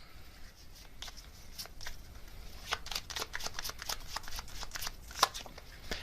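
Tarot cards being shuffled and drawn by hand: a run of quick, crisp papery riffles and flicks, close and fairly quiet, with one sharper snap near the end.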